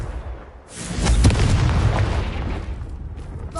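Booming blast from a Confringo or Bombarda spell in the Hogwarts Legacy video game, a loud rumbling explosion that swells and lingers for a few seconds over a dense noisy background.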